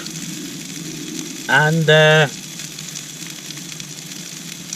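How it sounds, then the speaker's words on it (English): Food sizzles on a camping stove while bivvying under a rock on Kinder Scout, a steady outdoor frying hiss that runs throughout as someone briefly speaks over it. "So we'll get this sizzled up"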